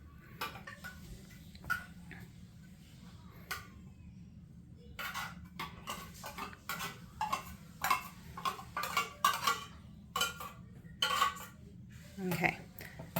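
A spoon scrapes and taps canned cat food into two food bowls, making soft clinks and metallic scrapes that grow busier toward the end, over a steady low room hum.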